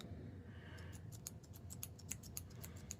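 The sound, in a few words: pen clicking mechanism, converted airfoil pen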